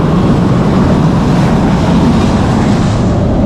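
Loud, steady rumble of a moving LRT light rail train in Baclaran, Philippines, a constant low roar of wheels and track noise with no voices.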